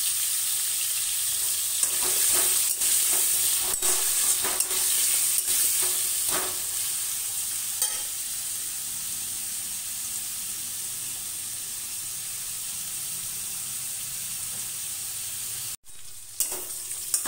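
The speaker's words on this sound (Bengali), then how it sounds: "আলু কুমড়োগুলো আমার ভাজা হয়ে গেছে" Potato and pumpkin pieces, salted lightly, sizzle in hot oil with a steady hiss, a few scraping stirs and clicks early on, then an even fry with a brief break near the end.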